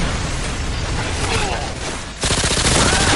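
Dense, continuous automatic gunfire from a weapon in a video game, loud and close, with a brief lull before a sharper, heavier burst of rapid shots resumes.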